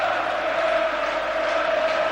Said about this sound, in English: these West Ham supporters 4-0 down, and yet they're still cheering as though they were in the lead